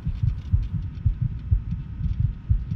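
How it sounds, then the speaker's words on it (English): A heartbeat during the birth scene in Fallout 3 thumps low and steady at a regular pace, loud and close with a soft throbbing hum beneath and no other sounds. "And heartbeat."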